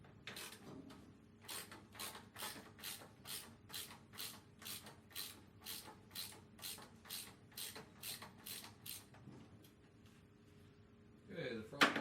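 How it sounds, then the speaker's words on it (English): A ratchet with a 1/2 inch drive socket and 1/4 inch Allen bit loosens gas tank fasteners on a 1986-2003 Harley-Davidson XL Sportster, giving a quiet, steady run of about twenty evenly spaced clicking strokes, then a brief clatter at the end. "I've got a 1/4 inch Allen wrench, 1/2 inch drive socket"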